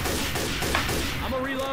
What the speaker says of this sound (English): Why the hell you guys keep shooting me?